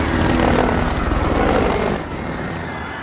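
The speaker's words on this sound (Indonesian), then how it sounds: "saat helikopter itu turun" A helicopter descending in an action film scene, its rotor producing a loud, rapid, even thudding with a heavy engine roar that eases slightly partway through.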